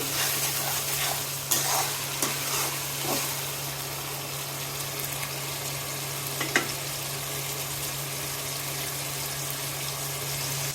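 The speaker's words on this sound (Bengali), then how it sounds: "আদা রসুন বাটা আমি একটু ভালো করে ভেজে নিব।" Ginger-garlic paste with onion fries in a pan for a chicken giblet and liver curry, giving a steady sizzle with occasional spoon scrapes over a low constant hum; no voices.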